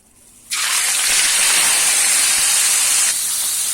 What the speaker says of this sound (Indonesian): Pertama, goreng udang dengan panaskan minyak.